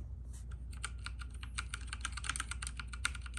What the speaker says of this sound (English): I have never typed on this keyboard,